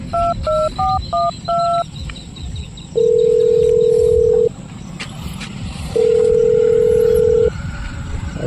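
Phone call going unanswered: a quick series of dialing tones, then two long ringback tones, each about a second and a half and separated by a pause, over a faint background hiss.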